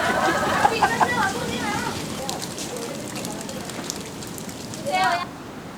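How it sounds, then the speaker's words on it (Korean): Rain falls on surfaces outdoors in the rainy season, a steady close patter through most of the stretch, with occasional louder splashes and a brief burst of other noise near the end. "5월부터 11월까지가 우기인 탓에 하루에도 여러 번 비가 오는 것이다"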